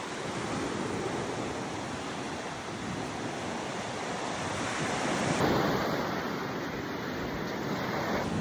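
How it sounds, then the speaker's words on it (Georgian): Aegean Sea waves breaking steadily on a beach in Halkidiki, Greece, a continuous loud roar of surf with wind rushing across the microphone and no voices. "ზღვა ბევრად უფრო სუფთაა, ეს ეგეოსის ზღვა"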